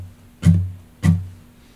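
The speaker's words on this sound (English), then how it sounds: "We're going to mute the notes, the strings. So it needs to sound like this." Two muted down strums on acoustic guitar strings, short dull percussive chucks about half a second apart, close and alone.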